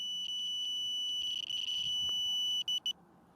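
A homemade detector for 4G relay antenna signals emits a steady high electronic beeping tone that holds, flickers in short pulses, then cuts out, with no talk.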